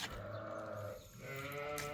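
A single sheep bleats in a short, faint call over a quiet background.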